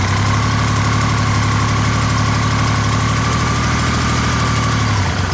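A Yamaha engine with a battery charging problem idles at low RPM, a loud, close, steady rumble with a fine rhythmic pulse and slight vibration, fading near the very end.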